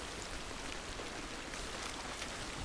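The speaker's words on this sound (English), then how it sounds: "Especially if it stays heavy rain" Heavy rain pours steadily in the game Hunt: Showdown, a dense, even hiss of drops with no letup, fairly faint and without voices.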